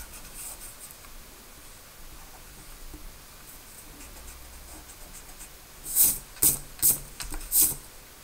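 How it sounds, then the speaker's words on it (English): A pencil drawing of a two-point perspective tree house gets erased, starting with faint scratchy rubbing and finishing in four or five short, loud, brisk eraser strokes near the close. "Then you'll erase the inside of the box."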